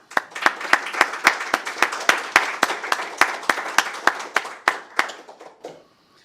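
A symposium audience claps in welcome, a steady run of close, crisp hand claps lasting several seconds before tapering off.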